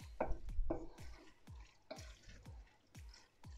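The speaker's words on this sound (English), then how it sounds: "And just stir it all in." Mince and tomato mixture being stirred in a pan, heard as a quiet, close series of about eight soft scraping and thudding spoon strokes in a loose, irregular rhythm with no talking.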